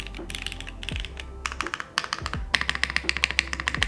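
Close, crisp keystrokes on a Tiger 80 Lite budget mechanical keyboard arrive in quick bursts and a fast steady run, each press a sharp clack over a faint low hum.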